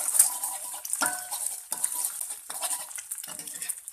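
Leftover beaten eggs are scrambled in a frying pan, with a steady bright sizzle under repeated scraping and clinking strokes of a utensil against the pan, close and continuous with no talking.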